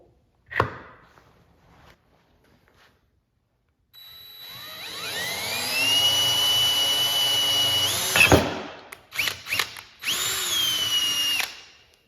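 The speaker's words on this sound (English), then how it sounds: "then a 3/16 drill bit down through this hole" A power drill with a 3/16 bit whirs steadily for several seconds while drilling a hole in a 4L80E transmission, pitch shifting as it bites, then stops and restarts in short bursts, close and loud.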